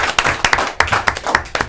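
Live clapping from a studio audience on a French TV talk show, quick sharp claps in an uneven, rhythmic pattern, close and fairly loud, lasting a couple of seconds.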